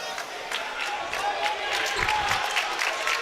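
A football stadium crowd roars and cheers continuously at fairly close range, a dense wash of voices and applause sustained throughout.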